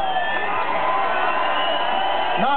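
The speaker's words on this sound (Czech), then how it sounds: "A vy tleskáte." A Czech rock concert crowd applauds and cheers steadily through the whole stretch, a dense, even wash of clapping and voices with a few whoops rising above it.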